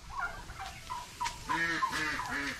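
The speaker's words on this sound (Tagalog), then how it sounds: "Ngayon po natin mga pabo, lumalabas." Turkeys kept on a farm gobble in quick rippling bursts, a few calls close together near the end, with faint higher chirps and outdoor background noise between them.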